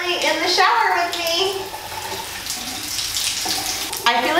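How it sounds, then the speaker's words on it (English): Water running in a bathtub shower, a steady close rush and splash with a voice talking over it at times. "Step number one is going to be to get into the bathtub or the shower."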